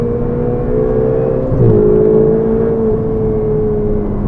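A Ferrari 488 GTB engine pulls hard with a loud, sustained whine that holds a steady pitch, dips slightly partway through, then climbs again, heard up close from inside the car.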